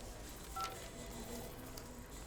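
Telephone keypad tones from a dialed phone in a Tamil gangster film scene, a few short beeps over a steady low background hum.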